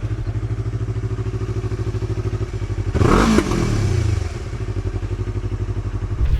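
Yamaha MT-03 motorcycle fitted with a louder slip-on exhaust, a steady pulsing engine note with a brief burst of revving and a clattering thump midway, then settling back to its even rhythm.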